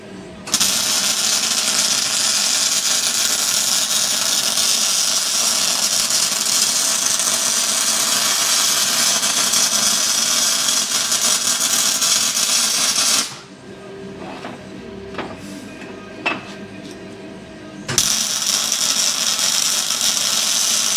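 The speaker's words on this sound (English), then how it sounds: "Just welding it in." Arc welding repair on a broken bush hog mower, a steady crackling buzz held for about thirteen seconds, then a short break with clanks before the welding resumes.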